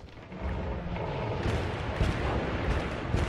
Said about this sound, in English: there's a massive explosion right there because of the hazmat fire